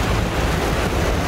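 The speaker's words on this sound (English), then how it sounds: "we're going to be like going through some class 3 whitewater chasing this fish" Class 3 whitewater rapids on a river in Hells Canyon roar as a dense, continuous rush of churning water, loud and close, with no voices.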